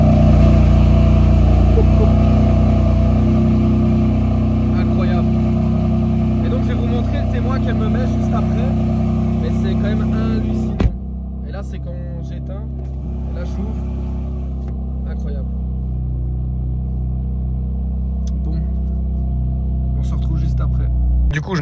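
A car with an aftermarket exhaust rumbles and revs with a deep, throaty exhaust note, loud and close at the roadside, then settles to a lower idle.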